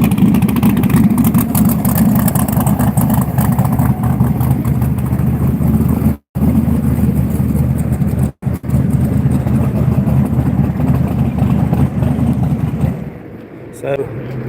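A Pro Mod drag car with open headers rumbles loudly on a public street, a heavy, constant engine roar with two brief dropouts before it fades near the end, with people talking over it.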